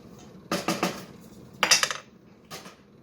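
A spoon clinks and scrapes against a pot of vegetable stock during meal prep in a Ford Escape, giving three short bursts of metallic clatter, two close together at the start and one lighter tap near the end, with no talking.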